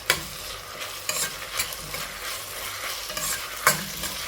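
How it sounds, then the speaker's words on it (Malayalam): Onion sautéing in oil with coriander leaves added, a soft sizzling bed punctuated by several sharp spatula scrapes and stirs, close by and with no voices. "ഇനി ഇതിലേക്ക് കുറച്ച് മല്ലിയില ചേർത്ത് കൊടുക്കുക എന്നിട്ടത് വീണ്ടും ഒന്ന് വഴറ്റിയെടുക്കുക"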